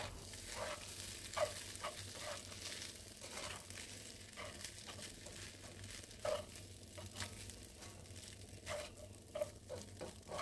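Steady sizzling of nasi goreng (fried rice) with chili and spring onion frying in a pan, with scraping stirring strokes and light clinks of a utensil, continuous and moderately close, no voices.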